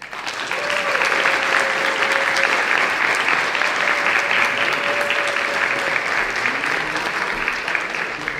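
An audience at a school event claps for the parents, a sustained, fairly loud wash of applause filling the room at an even level throughout, with a faint voice briefly audible underneath.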